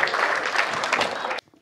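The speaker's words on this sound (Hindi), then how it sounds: "जोरदार तालियां।" Audience applause at a Hindi comedy poetry gathering, a burst of dense hand clapping from a crowd that cuts off abruptly near the end.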